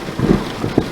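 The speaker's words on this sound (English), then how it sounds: "It's going to be a light thunder sound." Light thunder and rain sound effect for an animated rain scene: a loud, continuous broadband rumble and hiss with soft low swells, no voices.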